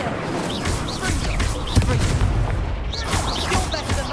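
Incendio fire spell cast during a wizard duel in the video game Hogwarts Legacy, bursting out as a series of punchy booms and crackling blasts with a whooshing edge, with game voices heard in between.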